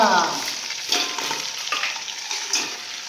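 Prawn legs frying in hot oil give a steady, close sizzle with soft crackling bursts that swell and fade every second or so, and no voices.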